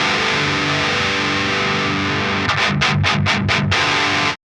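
A heavily distorted electric guitar through a Fortin Big Chugs distortion pedal holds a thick, buzzing chord, then a run of rapid choppy strums before cutting off abruptly.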